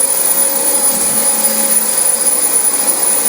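A Dyson DC25 vacuum cleaner works over a very dirty carpet, its loud, steady motor whine and airy rush running close and unbroken throughout.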